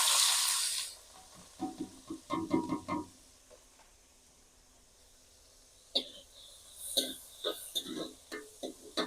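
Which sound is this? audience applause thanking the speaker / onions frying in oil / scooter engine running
onions frying in oil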